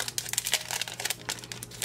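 Paper wrapping around a sticker kit being opened, with close, crisp crinkling and brief tearing rustles in quick irregular bursts.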